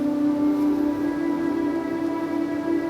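A steady, droning air raid siren wails continuously at a constant pitch, loud and sustained, with no other sounds.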